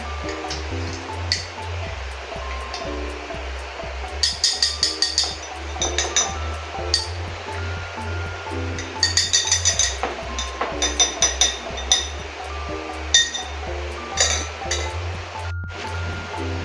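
A mojito is stirred in a glass: bright, repeated clinks and taps come in short bursts over a low, steady background hum.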